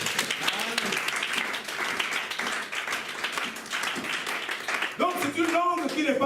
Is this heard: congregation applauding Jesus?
yes